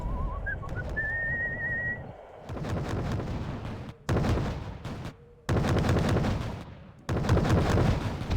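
Incoming artillery in the war strategy game Wargame: Red Dragon: a shell whistles in, then a series of heavy, booming impacts and explosions land in bursts separated by short pauses.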